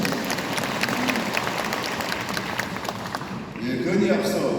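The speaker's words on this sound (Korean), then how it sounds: "다시 한번 박수로 환영의 박수 한번 부탁드리겠습니다" Audience applause welcoming a provincial governor at a town-hall meeting with residents in Goheung: steady, dense clapping from a nearby crowd that swells louder near the end, with voices mixed in.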